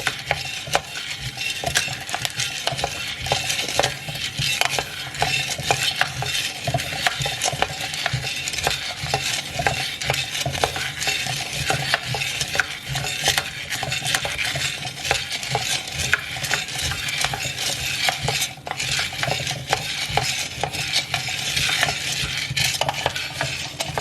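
Coffee beans from Timor roasting in a pan on a gas stove, stirred continuously to a medium roast, giving a steady scraping, rattling clatter with a faint sizzle running loud and close for the whole stretch, no voices.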